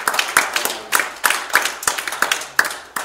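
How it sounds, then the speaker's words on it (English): Congregation at a church service claps hands in rhythm, a series of sharp, fairly close claps at a steady beat of roughly three per second, with sparse individual claps between the main accents. "Give the Lord a hand clap."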